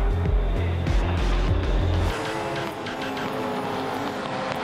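A Supercars race car at a night race with no rear downforce, spinning off at the end of the main straight: a loud engine roar holds for about two seconds, then drops to a fainter, rougher mechanical wash.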